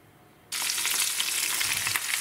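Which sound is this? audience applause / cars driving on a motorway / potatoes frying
potatoes frying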